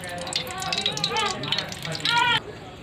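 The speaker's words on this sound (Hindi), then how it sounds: "अब हम डाल देती हूँ सरसों का तेल।" Mustard oil poured into a hot pot sizzles and crackles steadily, with someone talking over the frying noise before the sizzle drops off abruptly.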